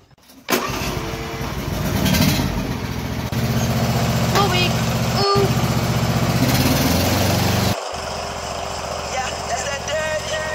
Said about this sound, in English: You mowing the lawn?